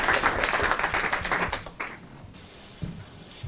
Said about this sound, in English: Another round of applause for Claire again